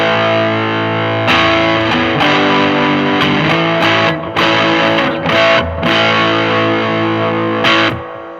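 An electric guitar plays through an Emblem pedal set to its germanium side at zero gain into a Supro amp with a little reverb. Sustained chords and notes ring out, broken by brief gaps and re-struck attacks, with no talking.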